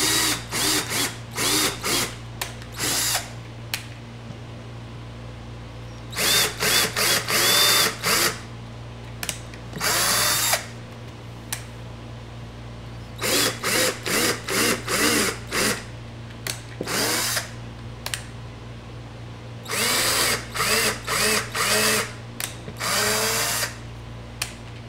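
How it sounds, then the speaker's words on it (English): A power drill bores holes into a wood board for a Litecoin mining rig, with repeated short bursts of high whining revs separated by pauses over a low steady background hum, close and loud. "and I'll drill in."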